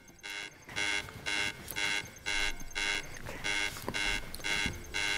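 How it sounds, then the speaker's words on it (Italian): Countdown beeps from the TOCSEN fall sensor app, a steady series of about nine evenly spaced electronic tones, each lasting roughly a third of a second, close and clear with no talking. "il classico conto alla rovescia presente nell'applicazione, il quale si abbina anche a un segnale sonoro"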